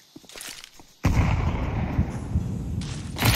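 A grenade explodes in the video game Counter-Strike 2. After about a second of quiet game sounds, a sudden loud blast hits and rumbles on to the end.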